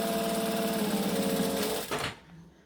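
A sewing machine runs loud and close with a steady mechanical whirr as it back stitches along a fabric edge, then stops abruptly near the end.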